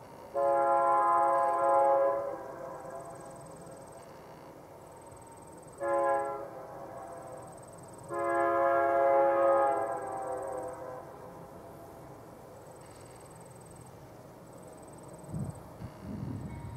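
Horn blasts from BNSF eastbound freight trains slowing for signals outside Lodge Grass at milepost 750, on the Big Horn Subdivision: three long chord blasts at steady intervals, loud and near, with quiet rumble and faint insects between.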